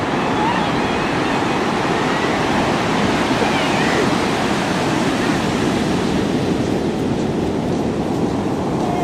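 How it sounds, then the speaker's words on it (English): Ocean waves break and wash onto the beach at Carmel-by-the-Sea, a loud, steady roar of surf filling the whole stretch with no pause. "We're at the beach."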